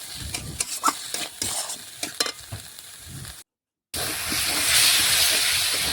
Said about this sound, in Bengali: ভালোভাবে সমস্ত উপকরণ দেখুন মিশিয়ে আমি কষিয়ে নিচ্ছি মশলার সাথে।